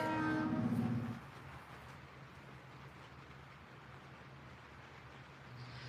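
Trains on the DT&I line pass beneath the State Route 753 overpass south of Washington Courthouse, opening with a short horn blast that gives way to a low, steady rolling rumble at moderate distance.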